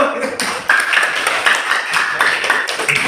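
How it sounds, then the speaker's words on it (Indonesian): An audience claps together in a classroom session, a steady burst of hand claps running throughout at moderate loudness, with a voice speaking over it. "Ini kita harus tepuk tangan dulu."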